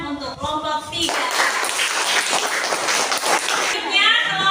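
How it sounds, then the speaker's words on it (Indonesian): Classroom applause for a student group at the end of a presentation, a dense burst of clapping lasting a few seconds between stretches of talk. "tepuk tangan untuk kelompok 3"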